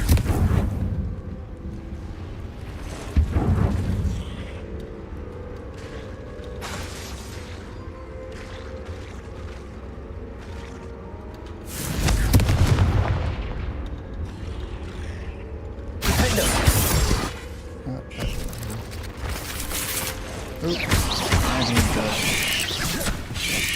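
Confringo fire spells explode in Hogwarts Legacy, with three loud broadband blasts spaced apart over a steady rumbling game backdrop.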